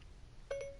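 A phone's Siri activation tone, a short two-part electronic chime, faint against quiet room noise.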